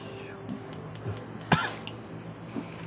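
A single short cough bursts out midway, surrounded by quiet background noise and faint clicks.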